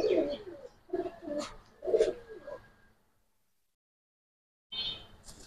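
Giribaz silver pigeons cooing close by, several soft, low rounded coos in a rhythmic series over about three seconds, then a pause and a brief renewed burst of calling.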